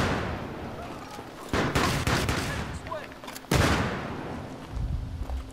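Rapid bursts of M16 rifle fire in the video game Battlefield 3, two loud sustained volleys of gunfire close up, with a short pause between them and a voice talking over the shooting.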